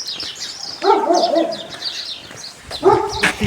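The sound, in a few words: big dog barking behind a fence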